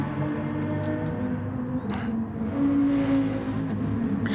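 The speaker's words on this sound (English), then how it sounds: "This car kind of sounds similar to the one that I'm driving." Race car engine in a GR3 class racing game, a loud continuous drone that climbs in pitch and revs harder toward the end, with brief whooshes of passing.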